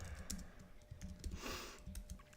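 Rapid clicking of computer keyboard keys as code is typed, a close, quiet run of irregular taps with brief pauses.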